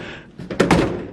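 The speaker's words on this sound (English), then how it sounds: "Got all the door seals all in. And now it closes really hard." Door of a 1950 Chevy Business Coupe shutting hard against new, tight door seals, a close, heavy thunk with a short rattle of impact, following some faint handling noise.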